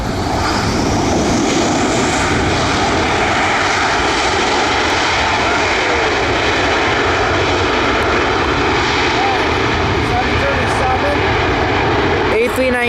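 A loud, steady roar of an Airbus A319's jet engines at Buffalo airport at night fills the whole stretch, heavy and continuous, with people talking faintly underneath.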